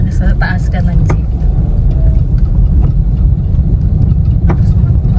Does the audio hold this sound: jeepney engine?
yes